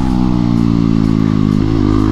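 A KTM Duke 250 motorcycle with its exhaust removed revs loudly and close by, a steady rough drone with strong low harmonics that dips briefly and climbs again near the end.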